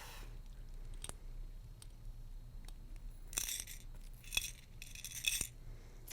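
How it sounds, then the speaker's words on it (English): A handheld cutter snips through a link of a metal necklace chain, making quiet, sharp clicks and a few brief metallic rattles in a hushed room. "I get my cutter and I'll cut this link off."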